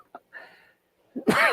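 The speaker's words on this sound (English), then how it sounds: "There's that pesky cough again." A man gives a short, sharp cough close to the mic, preceded by faint throat noises in an otherwise quiet room.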